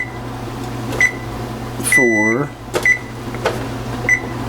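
A kitchen timer gives short, sharp electronic beeps several times while someone talks over a steady background hum.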